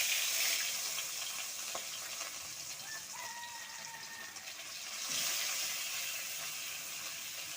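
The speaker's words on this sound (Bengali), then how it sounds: "এবার আমি দিয়ে দিচ্ছি মাছ।" Rui fish pieces dropped into hot oil in a home kitchen, a broad frying hiss that swells, settles, then surges again, fairly faint, with a few small clinks.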